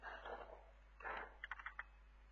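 Keyboard typing, a few soft keystrokes followed by a quick run of distinct clicks, close and fairly quiet.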